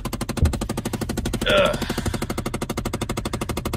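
Rapid, steady mechanical ticking from an actuator on the left side of a 2009 Chevrolet Impala with 245,000 miles, a fast even clatter filling the clip, with a short grunt from a person partway through.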